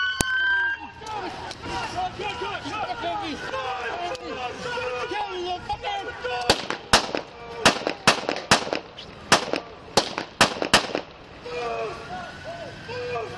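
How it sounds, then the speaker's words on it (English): Roughly ten sharp gunshots fired during a police body-camera incident at a Hyatt Place hotel, cracking out in an irregular burst after shouting and crowd chatter, loud and close. "Shots fired. Shots fired at Hyatt Place."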